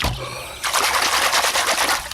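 Water trickles and splashes over dirty hands being washed, a brief faint drip turning into a steady close trickle for a couple of seconds.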